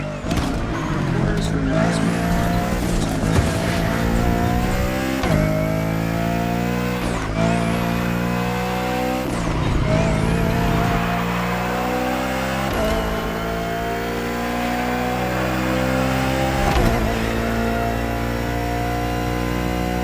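Bugatti Bolide race car on slick tires lapping a circuit in The Crew Motorfest, its engine rising and falling in repeated sweeping revs as it shifts through gears, loud and close throughout with a steady roar between shifts.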